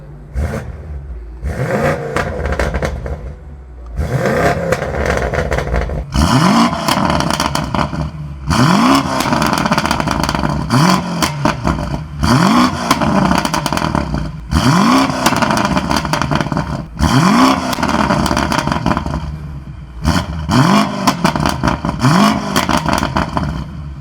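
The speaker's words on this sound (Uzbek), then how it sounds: "Prosta mashina sportda turibdi va salondan qanaqa eshitiladi menga bu ovoz." BMW M5 engine in Sport Plus mode, heard from inside the cabin: a series of loud revving surges that rise and fall in repeated pulls with brief gaps between them, no talk.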